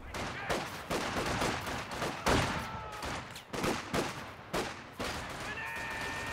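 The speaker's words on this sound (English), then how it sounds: "Rifle grenade." Bursts of rifle grenade and small-arms fire in a real-time strategy battle, with a string of sharp explosive cracks and rattling shots at irregular intervals over a steady din.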